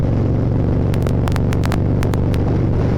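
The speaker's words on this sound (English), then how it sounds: "So I decided to ride my bike on a beautiful day." Motorcycle ridden through Savannah, Georgia on a sunny winter day, its engine giving a steady, loud, close rumble throughout, with brief sharp clicks or taps now and then over the droning exhaust.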